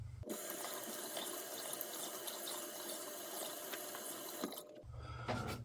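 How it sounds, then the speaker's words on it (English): A tap runs steadily into a sink for rinsing during a wet shave, a close, even rush of water that cuts off sharply near the end. "Let me rinse, come back for the final pass."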